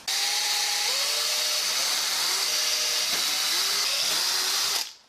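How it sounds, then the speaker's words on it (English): A power drill bores through a wooden board for a DIY Halloween countdown clock, a loud, continuous whirring grind with repeated dips in pitch as the bit bites, running for about five seconds before cutting off. "So now I just need to drill through and hope to God I've got everything lined up properly."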